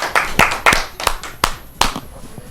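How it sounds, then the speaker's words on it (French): A few loud, separate hand claps ring out close by in an irregular rhythm, applauding a participant during a coaching session for a young TV presenter competition. "Il faut applaudir pour lui."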